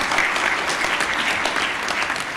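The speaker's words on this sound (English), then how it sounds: "Can you give him another round of applause?" Steady, dense applause fills a graduation ceremony hall as the audience claps continuously and loudly throughout, with no break.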